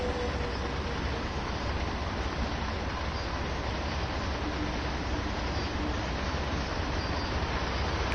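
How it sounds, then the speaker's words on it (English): Freight train rolling past in the Train Sim World 3 simulator, a steady, dense broadband rumble of wagons that holds evenly at close range throughout, with no talk over it. "There's a freight train going by."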